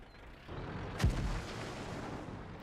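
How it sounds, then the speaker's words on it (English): Single heavy artillery shot from a self-propelled gun in the World of Tanks battle game, a sharp boom followed by a rumbling low tail over steady battlefield ambience, with no talk. "Whose shot was that? Another piece of arty, maybe."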